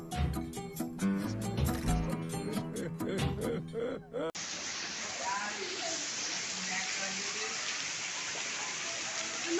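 Steady rain falls on a madrasa grounds, a broad even hiss that continues alone after a burst of louder mixed sound gives way partway through.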